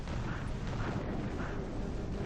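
Cannons firing in the mobile strategy game Boom Beach, a dense, continuous rumble of booming blasts that blur together at a steady, fairly loud level with no talking over it.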